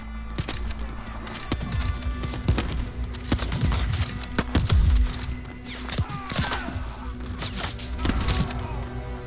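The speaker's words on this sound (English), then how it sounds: "So we have gas and artillery." Artillery fire and explosions in the War Hospital video game, a dense run of sharp cracks and thuds layered over a steady low rumble of battle, loud and continuous throughout.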